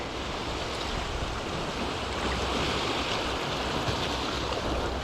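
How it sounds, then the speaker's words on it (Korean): Ocean waves and surf at a seaside spot during a seaweed-gathering outing, a continuous loud wash of water with wind noise on the microphone and no voices. "파도"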